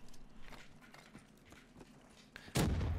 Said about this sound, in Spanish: Demasiados tiros.